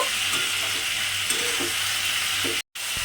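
Malabar spinach sizzles steadily in a hot pan as it is stirred, a close, continuous frying hiss with soft scraping and no talk.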